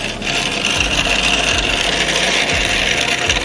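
A sand leveling tool drags sand across a Bermuda grass lawn, making a loud, continuous gritty rasping scrape close by with no pauses.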